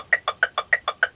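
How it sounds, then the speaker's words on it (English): Metronome ticking evenly at a fast sixteenth-note pulse, seven crisp, bright clicks in just over a second, heard clearly on their own. "try adding the 16th note on the metronome."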